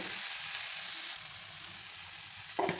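Watermelon rind dish frying in a pan with coriander leaves, a loud, steady hiss of sizzling oil that softens midway, with a short clatter near the end, no voices.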